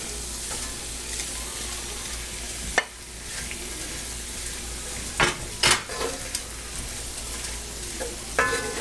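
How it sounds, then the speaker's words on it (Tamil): Chopped parotta being stirred through ketchup masala in a pan for chilli parotta, a steady soft sizzle with a few sharp scrapes and clinks of the spatula against the pan, close and alone. "இந்த கெச்சப் எல்லாமே மசாலா நல்லா இந்த பரோட்டாவோட மிக்ஸ் ஆகிற மாதிரி நல்லா கிண்டி விட்டுக்கோங்க."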